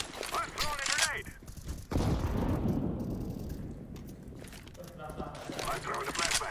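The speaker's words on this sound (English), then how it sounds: "I'm throwing a grenade." Video game combat with a thrown grenade, heavy explosive bursts and rattling gunfire, loud and close, mixed with bursts of game noise.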